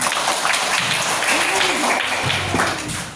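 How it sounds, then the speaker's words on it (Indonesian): Schoolchildren in a fifth-grade classroom burst into clapping, a dense patter of many small hands spread across the room, with voices mixed in throughout. "Wah, bisa semua tepuk tangan."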